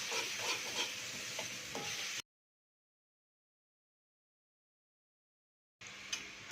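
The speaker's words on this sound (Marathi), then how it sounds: "आणि याला पण आता थोडंसं फ्राय होऊ देणार आहे यामध्ये." Masala for sambar sizzling and frying in a pan, loud and close, with stirring scrapes; the sound cuts out abruptly for several seconds and then resumes.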